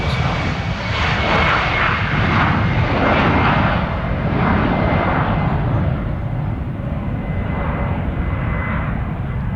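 A fixed-wing aircraft roars steadily through its takeoff run at Stansted Airport, a loud, continuous engine rumble with a slow pulsing swell that eases slightly toward the end.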